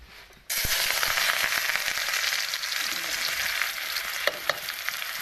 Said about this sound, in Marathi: हिरवी मिरची लसण आणि कांदा टाकून घेते तेल झालेलं गरम